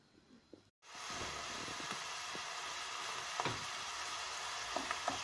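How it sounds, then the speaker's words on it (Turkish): Chopped onions start frying in vegetable oil in a pan, and after a brief silence a steady, close sizzle takes over with occasional pops and stirring clicks, no voices. "Soğanları ocağa koydum sıvı yağla birlikte."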